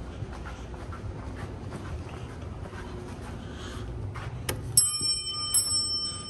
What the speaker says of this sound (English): that sounds like an Otis Bell